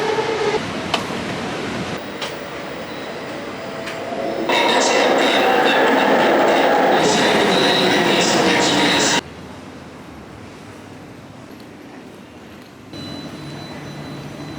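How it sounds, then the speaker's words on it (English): Interior of a metro subway train heading toward the airport, with a steady loud rumble and rising roar as the train picks up speed, then a quieter hum, and voices talking faintly under the noise. "Now let's go to metro and go to the airport."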